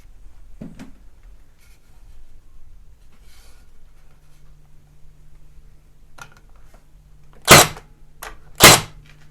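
Cedar shingles being nailed: a few faint taps are followed by two sharp, loud, close hammer strikes about a second apart in an otherwise quiet space.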